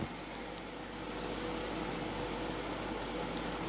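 A quiz countdown timer chirps in short paired electronic beeps, repeating roughly once per second in clusters over a faint background hiss.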